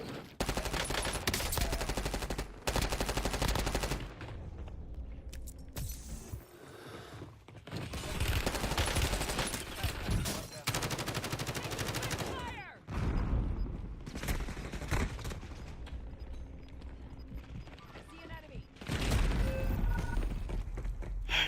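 Bursts of automatic gunfire in the Warzone shooter game, long dense volleys of rapid shots broken by brief lulls, loud and continuous through most of the stretch.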